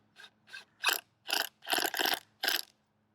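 A hand screwdriver, worked with a pumping action, drives a screw through wood. It makes seven distinct ratcheting bursts, close and fairly faint, with short pauses between them.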